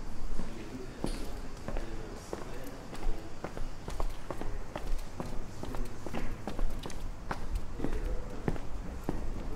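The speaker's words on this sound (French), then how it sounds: "il suffit que j'enregistre mes bruits de pas pour qu'on entende tout" Footsteps echo through an empty lecture hall in an abandoned university building, a steady run of distinct, fairly close steps on a hard floor with a roomy reverberant tail. No one speaks.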